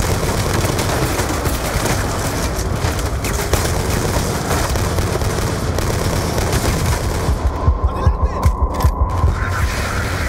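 Heavy gun firing from a bunker on a balcony during the Panama invasion in Call of Duty Black Ops 2, with sustained rapid automatic bursts, loud and close, turning into distinct thudding shots near the end.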